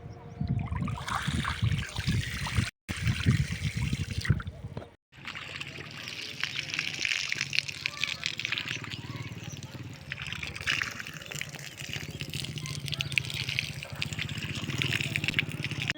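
Water gushes and trickles steadily across a freshly cast concrete roof slab as it is flooded for curing, a continuous splashing flow with brief dropouts early on and a faint voice now and then.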